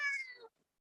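A cat gives a single clear meow, rising and then falling away over about half a second, close and fairly loud, followed by near silence.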